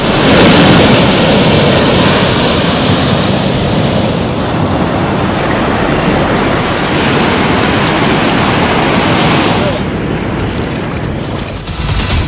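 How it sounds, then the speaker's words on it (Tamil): Sea waves about ten feet high crash and roar steadily throughout, a loud, dense wash of surf with no voices. "கடலில் 10 அடி உயரத்திற்கு கடல் அலைகள் எழும்பியதால்"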